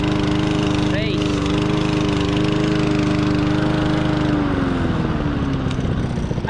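A pull-start lawn mower engine fires on the first pull and settles into a steady, loud running drone that carries continuously throughout, with a voice speaking briefly over it.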